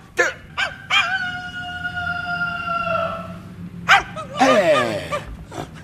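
A dog in an animated cartoon, a series of short yelps followed by a long drawn-out howling wail and then a final whining yelp burst, heard close and alone.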